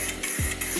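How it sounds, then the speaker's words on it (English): Spray paint hisses from a can onto car wheels in a short, close, continuous spray lasting under a second, with a faint mechanical rattle underneath. "We're gonna spray it real quick"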